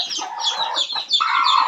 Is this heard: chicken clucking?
yes